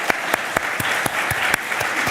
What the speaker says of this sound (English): Let me take this opportunity to really ask you for applause for our faculty.